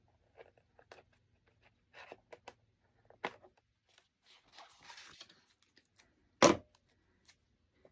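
Paper being trimmed for a page design, heard as sparse, quiet snips and light rustles spread out over several seconds, with one sharper, louder crunch near the end against an otherwise silent background.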